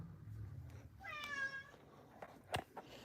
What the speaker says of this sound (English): Yes, meow cat. Meow cat.